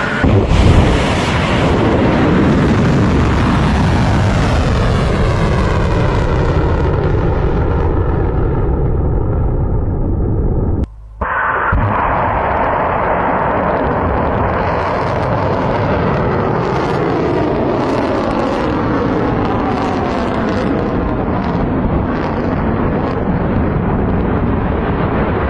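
Iranian missile strikes make a long, loud, roaring blast that sweeps downward in pitch, cuts out sharply, then resumes as another sustained roar with crackling bursts.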